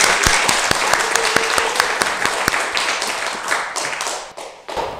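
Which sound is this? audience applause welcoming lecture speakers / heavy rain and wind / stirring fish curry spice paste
audience applause welcoming lecture speakers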